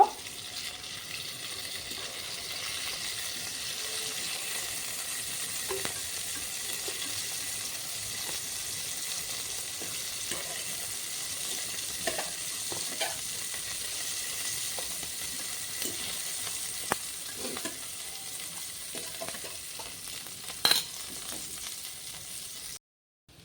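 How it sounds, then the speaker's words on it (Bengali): Tomatoes lightly frying in a pan in a Bengali home kitchen give a faint, steady sizzle for the whole stretch, broken by a few soft clicks and clinks, with no talking. "টমেটোগুলো আমি হালকা ভেজে নিয়েছি, এখন নামিয়ে নেব।"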